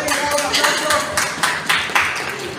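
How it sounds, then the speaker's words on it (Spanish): A crowd applauding at a Joker cosplay contest, clapping fairly loudly and continuously, with some voices mixed in. "Un aplauso porque efectivamente."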